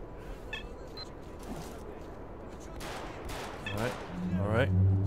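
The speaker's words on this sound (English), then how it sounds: "shooting." Bursts of gunfire in STALKER Call of Pripyat: several scattered shots over a low, noisy in-game background, with a voice speaking toward the end.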